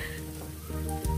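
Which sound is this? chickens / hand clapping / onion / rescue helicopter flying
onion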